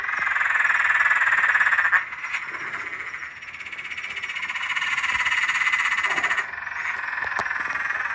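Frogs croaking in a garden pond made from a converted swimming pool, a loud, dense, continuous chorus of rapid buzzing calls that swells and dips slightly, close by.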